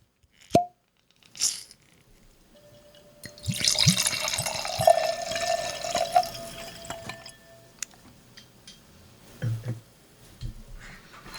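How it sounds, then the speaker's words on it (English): Jikon drink poured into a glass, starting with a few sharp clinks and taps, then a steady splashing pour for several seconds that trails off into scattered drips and small knocks. "I've poured it in the glass."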